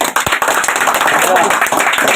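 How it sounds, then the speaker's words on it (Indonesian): A group of scouts at a gathering claps hands together in quick, loud, slightly uneven bursts, close and crowded, with voices mixed in. "Oke, tepuk tangan dulu."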